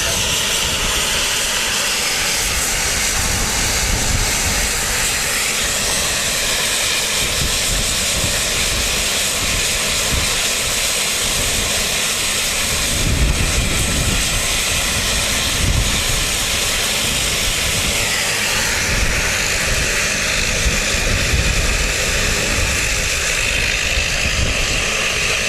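A passenger plane on flight NZ8311 to Nelson roars with a steady, hissing engine noise at Wellington Airport, heard from a moderate distance and holding constant throughout with a brief swell midway, with no voices.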